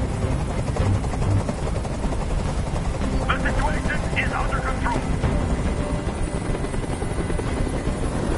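A helicopter in a video game flies close overhead, a loud steady rotor thump filling the whole stretch while a voice speaks over it.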